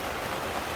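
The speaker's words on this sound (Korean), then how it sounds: "오늘 또 비가 오네. 비야." Rain falling outdoors over a farm during cabbage seedling season, a steady, dense hiss of drops that fills the moment evenly with no voices.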